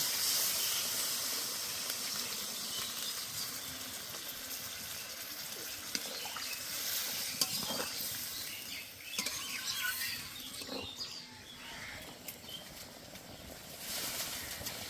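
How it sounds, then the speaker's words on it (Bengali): Water is poured onto sautéed masala for a vegetarian paneer curry, giving a steady hissing sizzle with soft splashing and occasional scraping of stirring, moderately quiet. "ভালো করে কষে নিয়েছি, এবার দিয়ে দেব জল"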